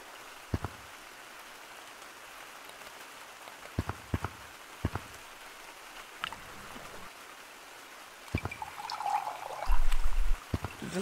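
Rain from a small storm cloud in the VR game Gorilla Tag patters softly with scattered sharp drop ticks over a quiet background, swelling into a louder rush near the end.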